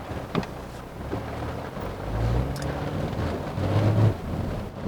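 Steady rain hiss with a low rumbling drone underneath from a Porsche 911 Carrera 4S Cabriolet driving in wet mode, its exhaust nearly masked, fairly constant and moderately loud, no voices.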